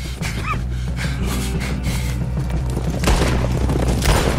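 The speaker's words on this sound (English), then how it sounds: "And look at them, they're shooting at us now." Gunfire from a Red Dead Redemption 2 shootout, with loud repeated booming shots and crackling volleys under a dense, busy game mix, breaths and gasps mixed in, steady throughout.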